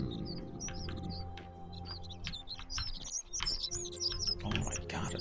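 Birds chirping in the video game The Forgotten City: loud, quick bursts of high tweets that repeat across several seconds over a low ambient hum, with no talking.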